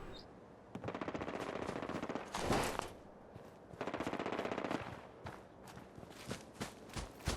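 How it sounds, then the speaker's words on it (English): Gunfire in the video game Fallout 4 as someone shoots at a Brahmin, with bursts of rapid automatic fire and single shots over quick footsteps, fairly faint and steady throughout. "Someone's shooting the Brahmin."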